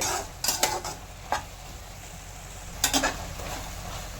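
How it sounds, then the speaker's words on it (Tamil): Tomatoes sauté in a pan for paneer butter masala with a soft continuous sizzle underneath. A few quick spoon scrapes and clinks come close in two short bursts, and no one speaks. "தக்காளி நல்லா வதங்கிடுச்சு"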